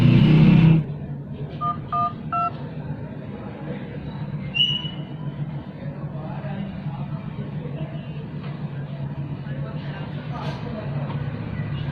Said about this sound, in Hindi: यहाँ पे 112 प्रेस करना है और यहाँ पे क्लिक करना है कॉल ऐड पे